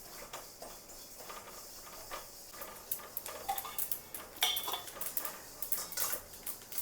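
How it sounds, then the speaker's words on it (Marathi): Sesame seeds roasting in a kadhai, heard as light, quiet metallic ticks and scrapes of stirring against the pan, irregular and close over a soft hiss. "हे 4-5 चमचे तीळ घेतलेले आहेत. हे आपण भाजून घेऊया."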